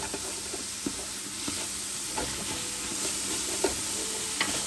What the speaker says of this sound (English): you can see the flavors coming off the bottom of the pan.